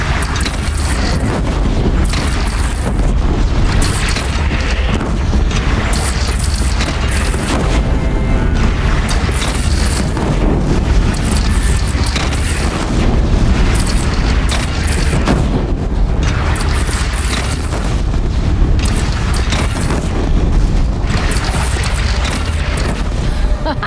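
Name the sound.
cannon fire and explosions in the video game Horizon Zero Dawn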